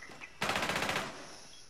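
A rapid automatic burst of gunfire in Rainbow Six Siege, roughly a dozen quick shots over half a second, fairly close and sharp, followed by a lingering reverberant tail.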